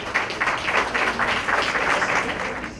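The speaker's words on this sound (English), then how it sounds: "please give a round of applause to my panel" An audience at a keynote and panel discussion event claps for the panel, a loud, dense round of applause that holds steady and then begins to taper off, with no voices over it.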